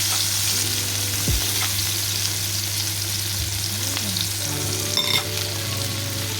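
A garden tomato sizzles and crackles in a hot pan with onion, a continuous frying hiss with a steady low hum beneath and a few scrapes and clinks of stirring.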